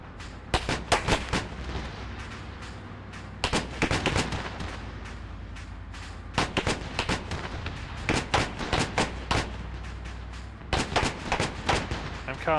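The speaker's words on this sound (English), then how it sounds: "I don't know how that creeping barrage is going to go, by the way, but it's like 50 shells" Artillery shells from a creeping barrage in the military game ArmA 3 land in repeated loud clusters of booming impacts over a steady low rumble, arriving in irregular bursts throughout.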